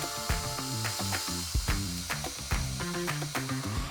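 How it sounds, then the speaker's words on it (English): A ratchet tool clicks rapidly while tightening fasteners that join table legs to aluminum extrusion on an AltMill 4x8 CNC table, in repeated short bursts of close, crisp mechanical ratcheting with no talking. "Tighten the fasteners connecting the legs to the extrusion."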